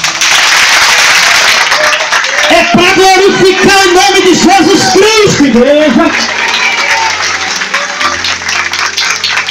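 A church congregation breaks into clapping and cheering, loud and dense, while a preacher's voice calls out over it through a sound system, and the applause carries on alone after the speaking stops.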